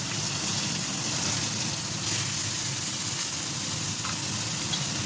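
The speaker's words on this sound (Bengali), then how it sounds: "লঙ্কা দিয়ে দিই ফাটছে লঙ্কাটা" Chillies crackle in hot oil in a home kitchen pan, a dense steady hiss running throughout at an even level with faint irregular spits, close by.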